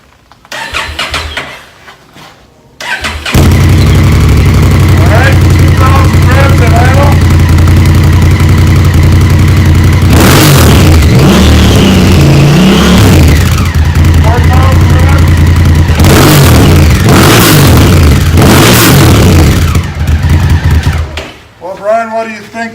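Honda Africa Twin motorcycle with an Arrow slip-on exhaust starts and settles into a steady, loud idle, then is revved in several sharp bursts; voices talk briefly near the start.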